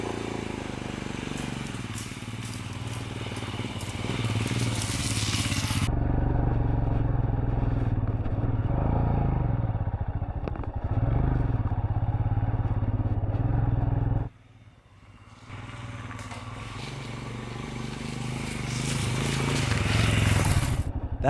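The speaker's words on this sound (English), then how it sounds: "I thought it best to get the bike out of the water before trying to start it again." A motorbike, recently dropped in water, is cranked and run on a riverside in New Zealand's Milford Sound area, its engine loud and rough for a long stretch, cutting out briefly before picking up again.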